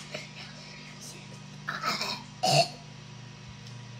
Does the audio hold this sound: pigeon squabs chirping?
no